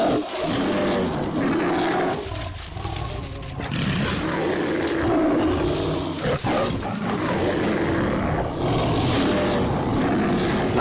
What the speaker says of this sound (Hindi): ये तो बाघ की आवाज है।